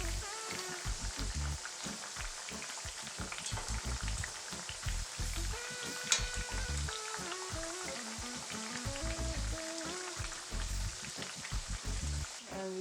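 Plantains sizzle and spit in hot oil in a pan, a steady close crackle with dense popping and bubbling that runs without a break.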